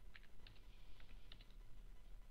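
Soft, faint keyboard typing in a quiet room, a handful of light scattered keystrokes tapping out a short document title.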